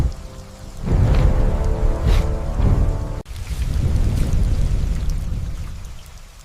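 Heavy rain pours steadily in the wild while deep thunder rumbles through it, a loud continuous wash with a brief break partway.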